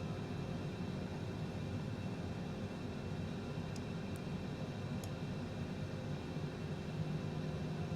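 Steady jet engine spool-up in Microsoft Flight Simulator, a broad constant roar and hiss heard alone, even in loudness throughout with no sharp events.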